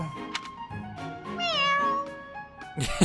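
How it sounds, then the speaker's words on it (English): A large cat meows in Fire Emblem: Three Houses, several close, drawn-out cries with a rising, wavering tone in the middle, followed by a rustling burst at the end. "I never would have guessed a cat this big could sneak into our pantry"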